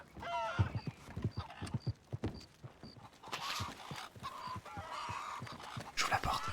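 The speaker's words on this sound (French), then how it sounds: "J'entends un cheval." Horse hooves clip-clopping in an approach through the Red Dead Redemption game world, a steady run of sharp hoofbeats that grows nearer, joined later by rustling and a brief whinny-like cry.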